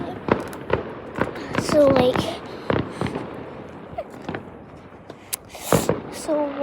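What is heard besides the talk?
fireworks going off on bonfire night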